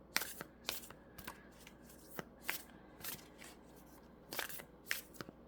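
Oracle cards for a tarot reading are shuffled in quick, light riffling bursts, soft crisp flicks repeating irregularly at close range in a quiet room.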